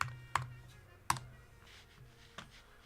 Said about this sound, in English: I'm gonna type pod in it.